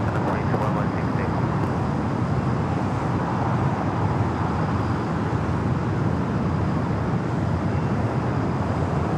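A Boeing Dreamliner lands on runway 25 left at LAX, heard as a broad, steady jet roar that holds at a loud level throughout, with faint voices underneath.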